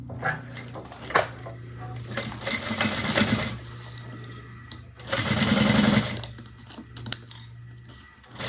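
A sewing machine stitches pieces for a convertible bag in bursts of fast, even whirring. There is a short run early, a longer spell in the middle and a strong final burst, with small clicks and handling noises in the pauses.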